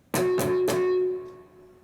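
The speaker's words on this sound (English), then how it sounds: "You're just going to do 3 mute strums." Three quick muted guitar strums give percussive, damped scratches in even succession, followed by a faint lingering tone that fades out, close and clear with no speech.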